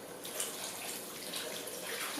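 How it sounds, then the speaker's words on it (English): Water poured into a pot of tomato shorba soup with tomatoes, ginger and cumin, a steady, soft splashing flow running unbroken throughout, close and quiet. "And I'm going to add some water."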